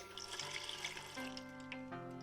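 Water pours from a tap into a blender jar packed with torn paper for recycling, a steady close splashing stream with a faint pitch rising as the jar fills.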